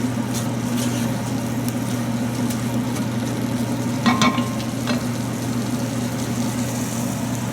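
A sauce with olives cooks down in a pan with a steady, fairly loud sizzle and a low hum throughout, and a few brief utensil clinks partway through.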